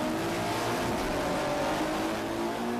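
A four-wheel-drive Volkswagen Golf race car engine roars loudly and steadily at a race start, revving hard as it accelerates, with a dense mechanical drone throughout.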